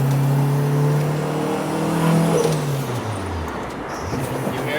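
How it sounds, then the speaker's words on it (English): A Honda Civic EK9 engine drones steadily up close while driving, its pitch sliding down as revs fall, with a faint whooshing turbo whine over the top. "You hear the jet engine turbo spooling?"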